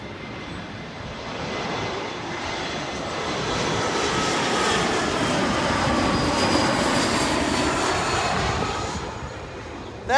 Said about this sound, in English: That's an Embraer, and not a very big airplane.